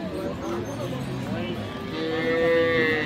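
A two-tooth-age dairy cow at a busy village cattle market gives a long, close moo that swells toward the end, with market voices and background chatter around it.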